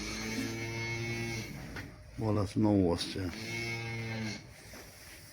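Cows, including a Simmental, moo in long, loud, drawn-out calls, one at the start and another near the end, with someone speaking briefly between them.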